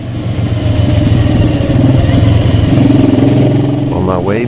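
A 1969 Honda CB750 Sandcast motorcycle, ridden 500,000 km by one owner, runs steadily with a loud, close, low engine rumble throughout, as at idle or a gentle rev, with a voice briefly heard near the end.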